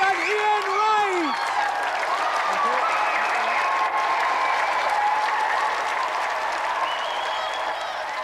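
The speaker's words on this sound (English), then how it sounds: "another round of applause for Tammy and Mead and Ian Wright" A studio audience at a 1993 television games show applauds loudly, sustained clapping and cheering that gradually tapers slightly, with a voice speaking over it.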